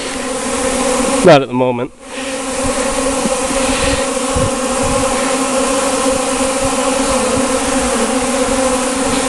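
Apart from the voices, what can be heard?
honey bees buzzing around a beehive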